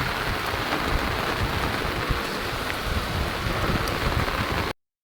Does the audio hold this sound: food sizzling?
no